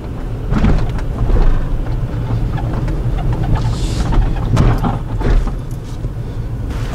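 A car rumbles through the Zimmerman covered bridge in Pennsylvania, with a steady low road and engine roar, a few louder thumps as the tires cross the boards, and no talking.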